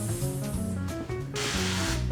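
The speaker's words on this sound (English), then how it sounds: "Always, always spray your waffle iron. Let's give it a spritz." Two short hissing bursts of aerosol cooking spray onto a waffle iron over background music, the second longer and louder.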